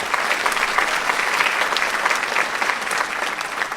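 Audience at a school music festival concert applauds steadily, a dense, loud wash of clapping from a large crowd that holds evenly without pause.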